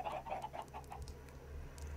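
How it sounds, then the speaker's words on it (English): Minecraft chickens cluck in a video game, soft repeated clucks at the start fading into a faint low hum with a few light clicks. "Love the little chickens."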